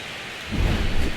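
Steady rain sounds in a baseball video game, and a deep roll of thunder swells in halfway through and rumbles loudly to the end.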